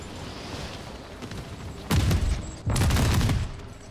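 Bursts of automatic gunfire in Call of Duty MWZ zombies mode: two dense, loud volleys a few seconds apart, following quieter distant shots, with no speech.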